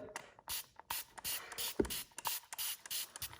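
Repeated spritzes from a trigger spray bottle onto a cup and glitter heat-transfer vinyl, short hissing bursts one after another at close range, with a faint knock partway through.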